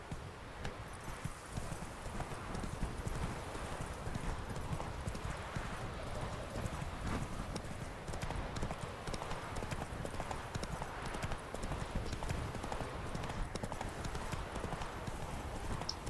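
Geralt's horse Roach galloping in The Witcher 3, a continuous rapid drumming of hooves close up and fairly loud, with faint game ambience and a brief trace of voice.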